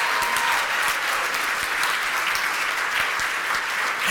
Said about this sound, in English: Can I just get a round of applause for Jack Maddens?